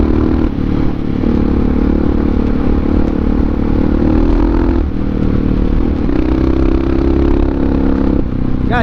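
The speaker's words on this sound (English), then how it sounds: "In supermoto trim, this thing just screams." A supermoto motorcycle engine revs loud and close while riding, with a steady rough drone that rises and falls in pitch through several throttle changes, along with some clatter and scraping.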